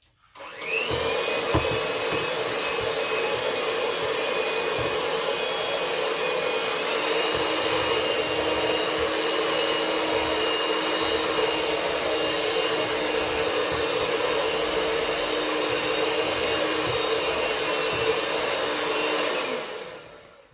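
Electric mixer running steadily while kneading cinnamon roll dough for Nordic korvapuusti, a loud continuous whirring hum that starts abruptly and stops about twenty seconds later, with no voices.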